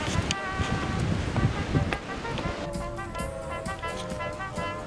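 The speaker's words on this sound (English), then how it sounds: "the waves are absolutely terrible" Surf crashes and rolls steadily at a beach break where the waves are poor and choppy, under constant wind buffeting the microphone.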